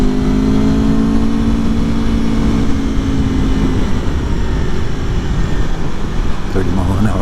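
Aprilia Tuono motorcycle engine revving while riding, a loud continuous droning roar with rising and falling pitch, heavy wind noise over it and a changing rev near the end.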